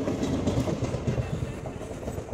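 A train arriving at a station rumbles steadily with rhythmic clattering of wheels on rails, close and continuous, with no voices.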